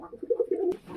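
A fancy coloured pigeon gives one short, throaty coo, soft and low and close by, rolling for under a second and ending in a small rustle.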